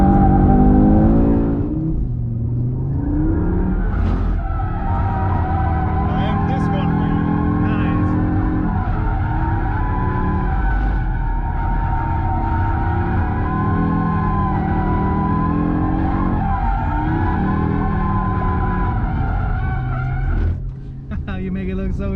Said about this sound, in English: A lot more tire squeal too.